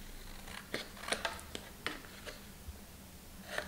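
Scissors snip through folded paper at a crease crossing, a series of short, crisp cuts at an irregular pace, close and quiet with a faint background hum.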